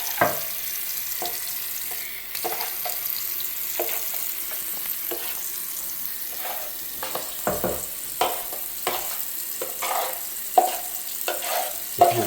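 Powdered drywall patching compound is stirred by hand in a container, a wet, thick scraping and slapping with regular strokes over a faint steady hiss, close and alone.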